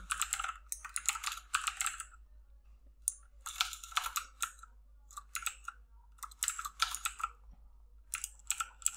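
Computer keyboard typing HTML code in quick bursts of close, crisp key clicks with short pauses between runs, fairly quiet overall.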